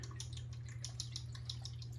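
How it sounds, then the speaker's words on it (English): Elysian white sage aftershave splash pours from a bottle through a restrictor, giving faint, irregular drips and trickles of liquid over a steady low hum. "I'm gonna do a little post-shave splash right here, matching Elysian aftershave."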